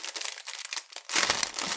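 A handmade paper surprise packet is opened, giving quick crinkling and rustling that starts light and sparse, then turns into louder, denser crumpling of paper close up.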